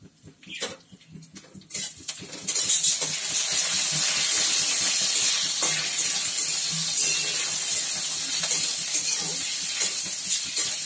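Whole spices and bay leaf drop into hot oil, first a few scattered pops and crackles, then a sudden loud, sustained hissing sizzle that stays steady and close.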